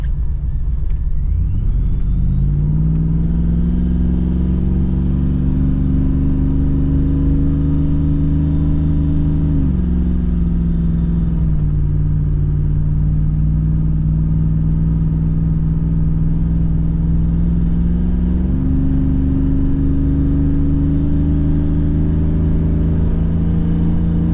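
Cabin sound of a Chevrolet Trailblazer SS with a coilover suspension conversion driving on a smoother road, a loud, steady low engine and road drone that rises and falls slightly with the throttle.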